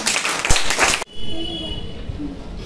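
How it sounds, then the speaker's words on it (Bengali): Children at a school education event clap loudly together for about a second, a dense close burst that cuts off abruptly into a quieter background hum. "বাস জোরে হাততালি"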